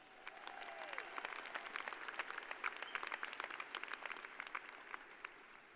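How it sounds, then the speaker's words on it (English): A graduation audience at a commencement ceremony applauds steadily, a dense wash of many hands clapping at moderate distance for several seconds without talk. "Let's give Matthew a round of applause."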